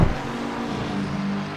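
A Ferrari and an Aston Martin GT race car at Imola in the racing game Assetto Corsa Competizione: a steady, loud engine drone after a brief thump at the start, sustained across the short moment.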